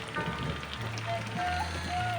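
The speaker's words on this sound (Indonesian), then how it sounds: "Soalnya ini turun hujan, kebetulan ini ada saung." Rain falls steadily on surfaces around an open saung shelter during an eel-fishing outing, a constant close patter with faint tones and murmurs in the background.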